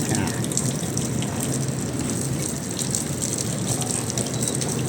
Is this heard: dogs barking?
no